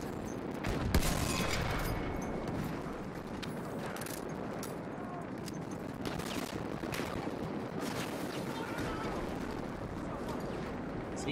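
Sustained battlefield gunfire in Battlefield 1, dense overlapping volleys and scattered shots at moderate distance, with voices under the din.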